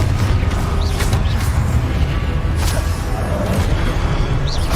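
In the Hogwarts Legacy video game, a Confringo blasting spell explodes with loud, rumbling booms and crackling impacts over a dense, continuous battle din, with no talk.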